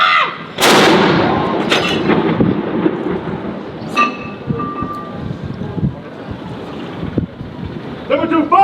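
A ceremonial cannon fires during a 21-gun salute by US and UK soldiers at Edinburgh Castle, one loud booming blast that rolls and echoes across open air, followed by a long reverberant tail, wind and distant crowd murmur.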